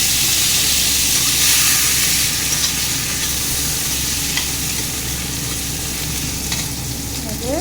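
Potatoes hit hot oil in a pan for a matar paneer, making a loud, dense, steady sizzle and hiss close up, with faint stirring scrapes and no talking.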